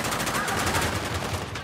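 Rapid gunfire from the video game Uncharted: The Lost Legacy, a dense, continuous burst of loud shots with a rattling automatic rhythm throughout.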